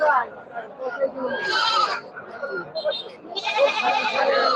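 Goats bleat at a large Sunday goat market crowded with tethered animals, several loud, wavering bleats rising in bursts over a steady hum of people talking nearby.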